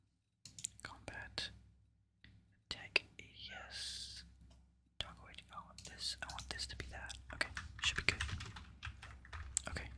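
Computer keyboard typing in bursts of quick, close clicks during a Black Ops 2 Zombies session, with soft whispering between and alongside the keystrokes.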